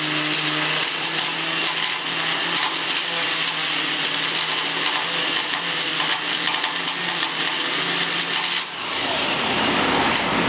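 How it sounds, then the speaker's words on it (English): Milwaukee M18 FUEL cordless string trimmer running at full throttle while cutting brush, a loud continuous whine with gritty crackling debris that holds steady close by, then cuts off abruptly near the end with no speech. "So take the M18 FUEL String Trimmer, same application, once again I pull that trigger"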